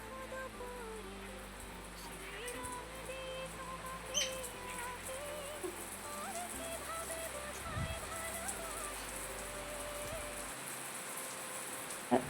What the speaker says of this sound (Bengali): দেখো কত জোরে বৃষ্টি চলে এলো